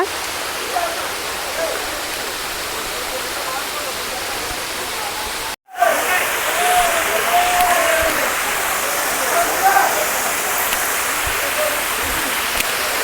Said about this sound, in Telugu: వాటర్ ఫాల్ మాత్రం చాలా చాలా బాగుంది